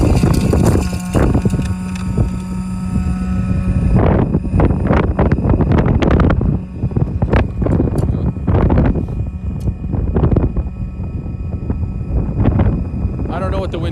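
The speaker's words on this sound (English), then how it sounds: "The wind's kind of zipping." Wind gusting outdoors near Chicago on a cold, roughly 17-degree day during snow blowing, a steady rushing buffet over the microphone throughout, with a person talking over it.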